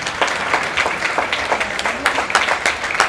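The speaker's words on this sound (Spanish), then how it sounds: "Démosle un aplauso a nuestra invitada." A church congregation claps for a guest, a lively close patter of many hands with uneven bursts and a few voices mixed in underneath.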